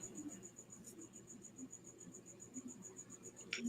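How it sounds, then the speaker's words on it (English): A cricket chirps in quick regular pulses, faint and steady in a quiet room, with a brief click near the end. "Hey, there's the cricket."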